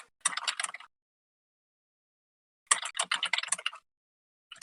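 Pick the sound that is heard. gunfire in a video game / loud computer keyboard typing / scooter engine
loud computer keyboard typing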